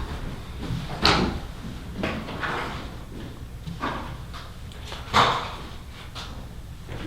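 A council chamber door swings open in a quiet meeting room, giving a few dull clunks and knocks, the sharpest around the start and again near the end, over low room hum.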